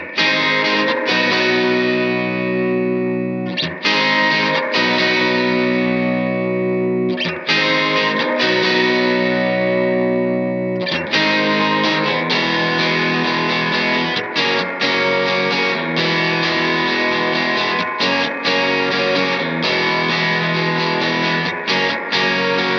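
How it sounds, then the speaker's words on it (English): An electric guitar plays through an R1 spring reverb set wet, with light modulation and a touch of overdrive grit. Sustained chords ring out in washy, shimmering tails, loud and continuous with no talking. "the R1 giving us that lovely wet spring reverb with a little bit of modulation just to give it a bit of movement and the spacey sound"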